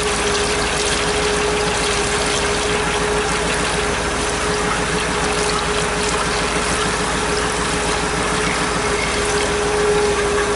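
Transmission fluid flush pumping on a Duramax diesel with an Allison transmission, a steady loud mechanical hum and whir with a constant drone and fluid churning, unbroken throughout with no talk.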